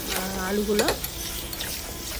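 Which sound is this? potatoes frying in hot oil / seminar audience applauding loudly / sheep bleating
potatoes frying in hot oil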